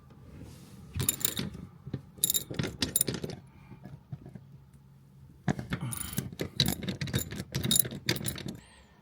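A ratchet wrench loosening the rear seat bolts in a new Toyota Tundra, heard close up as bursts of rapid clicking with pauses between them and metal clinks.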